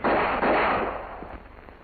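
Gunfire at a 1942 OSS firearms training range, a loud sharp report at the start followed by a broad booming decay that fades over about a second and a half, with no talk.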